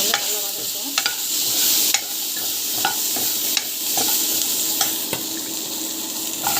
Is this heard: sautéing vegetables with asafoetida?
yes